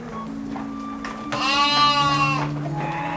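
Dorper sheep on a breeding farm, one clear, fairly loud bleat rising mid-clip over a steady background hum, with a fainter animal call before it.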